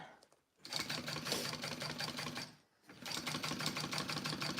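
A sewing machine bastes a clear vinyl piece for a boxy bag, running in two steady, close, loud bursts with a short pause between them.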